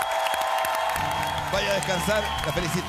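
Studio audience applause on a Spanish-language TV singing competition, a steady wash of clapping throughout while a host speaks over it.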